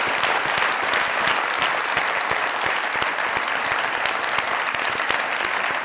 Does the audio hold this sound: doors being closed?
no